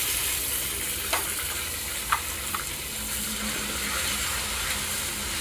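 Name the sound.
whole cumin and tomato frying in a pan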